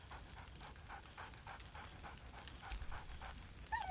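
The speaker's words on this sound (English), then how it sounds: "Scratch barks merrily in something like agreement." Scratch, a dog companion in Baldur's Gate 3, gives rhythmic, eager panting-like yips in quick regular pulses, soft and fairly close, with no talking.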